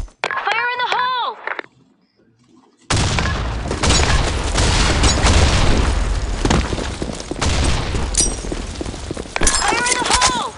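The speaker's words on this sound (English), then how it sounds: "Grenade! Fire in the hole." A grenade goes off in a video game shooter. A brief shouted voice callout comes first, then a sudden loud blast that rolls into several seconds of dense, crackling battle noise, and another voice line closes it out.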